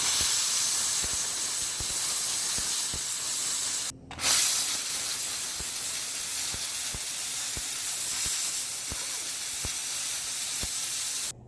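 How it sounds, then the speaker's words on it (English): A steam cleaner hisses and sprays steadily on the perches of a parrot cage, a loud continuous jet with a brief cut-off near four seconds and faint ticking clicks beneath. "another great use of the steam cleaner is to clean perches that you don't want to take out"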